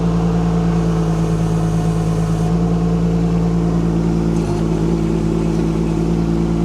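Huayee HY16C Chinese mini excavator driving while clearing a broken fence section, its engine giving a steady, loud, unbroken drone that shifts slightly in pitch partway through, with no talk.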